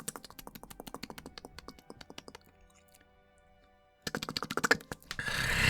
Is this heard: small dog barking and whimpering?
no